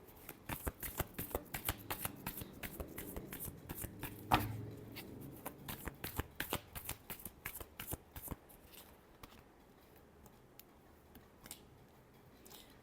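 Tarot cards are shuffled by hand, a close, fast run of crisp riffling flicks that goes on for several seconds, then thins out into lighter, scattered card taps.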